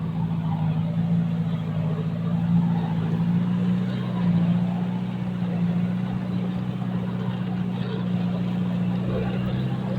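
A Thai E-taen farm vehicle hauling a load of sugarcane drones with a steady, close engine hum as it works along a narrow plantation track, with people talking over it.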